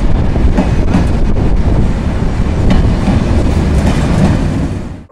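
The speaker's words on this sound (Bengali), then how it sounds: "ইতিমধ্যে প্রবেশ করছে আন্তনগর রূপসা এক্সপ্রেস" Intercity Rupsha Express from Chilahati rolls into a station, loud and close, a dense continuous roar of wheels and clickety-clack over the rails with wind buffeting the microphone before the sound drops away at the end.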